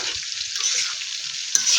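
Cauliflower and potatoes sizzle in a pan as they are stirred and sautéed, a bright, continuous hiss broken by a sharp scrape near the end.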